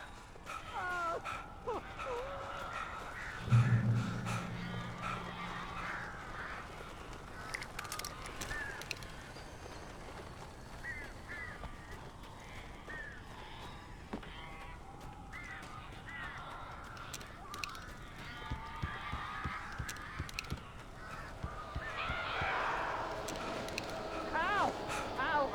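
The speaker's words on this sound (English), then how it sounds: "These birds are weird." Crows and other birds caw and call in the video game Alan Wake, scattered cries under a dim, eerie ambience, with a sudden low thump and a voice speaking through much of it.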